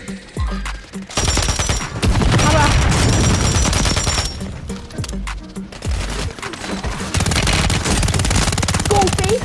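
Repeated bursts of video-game machine-gun fire from a Pulemyot come in loud, rapid fusillades between short gaps, with close heavy shots mixed with farther fire.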